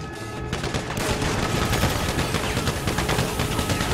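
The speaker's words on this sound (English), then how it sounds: "Man, this is a shotgun, it's short range" Rapid, loud gunfire from a Grand Theft Auto heist raid fills the whole stretch, dense overlapping shotgun blasts and shots with no pause, close and continuous.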